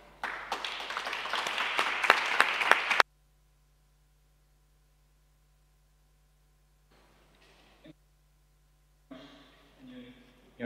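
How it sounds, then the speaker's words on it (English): An audience at a health conference applauds a university professor's introduction: a burst of crisp clapping for about three seconds that cuts off abruptly, followed by near silence with faint scattered noises. "Please give a very warm round of applause"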